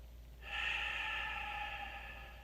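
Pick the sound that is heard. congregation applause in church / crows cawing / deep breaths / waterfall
deep breaths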